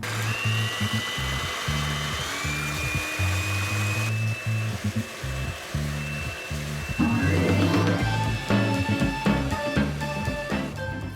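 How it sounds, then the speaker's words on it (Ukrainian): Electric hand mixer beating eggs with sugar in a bowl, a steady loud motorized whir running throughout with a rattling, slightly shifting pitch as the beaters move. "І збиваємо міксером тут десь приблизно 150 грам цукору."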